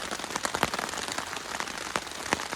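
Heavy rain patters densely on a 3x3 tarp tent in the woods, a close, continuous hiss broken by sharper irregular drops striking the taut fabric.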